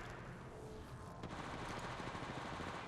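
Rapid automatic gunfire from the mobile game Apex Legends, dense continuous bursts close and loud, with a brief shift in intensity partway through.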